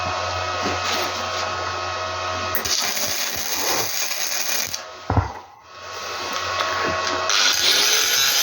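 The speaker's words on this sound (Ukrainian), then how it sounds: "Тепер зачищаю весь сварочний шов болгарочкою" An angle grinder dresses a fresh weld seam on an old axe head being remade, its steady, loud high whine running throughout with shifts in pitch and a brief knock or dip near the middle as the disc meets the metal.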